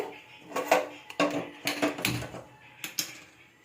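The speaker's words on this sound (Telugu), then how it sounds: "మొత్తం పులుసు మొత్తం ఇందులోకి పోసి బాగా కలిపెట్టాలండి" A spoon clatters and scrapes against a cooking pot while tamarind broth is stirred into rice for bisi bele bath. The knocks come irregularly and close up, with quiet gaps between them.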